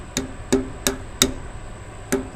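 A hammer lightly taps a metal wheel bearing cap into the hub of a car hauler trailer, five sharp, ringing taps, four in quick succession and one more after a short pause.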